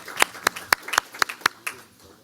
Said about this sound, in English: Let's have a round of applause again for all the awardees.